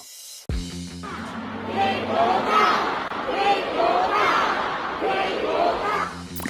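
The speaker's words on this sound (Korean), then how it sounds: "관객들이 들리지 않는다는 함성을 지릅니다" A large audience at a concert in China shouts and cheers together in a sustained, loud roar, with scattered higher yells rising above the mass of voices.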